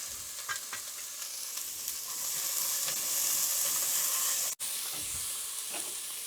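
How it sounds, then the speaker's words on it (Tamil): Green chilies, dried red chilies and curry leaves sauté in hot oil with onions for tomato rice, giving a continuous soft sizzle with occasional stirring scrapes and a single sharp click partway through. "பச்சை மிளகா, வரமிளகா, கருவேப்பிலை அதையும் சேர்த்து வதக்கிடலாம்."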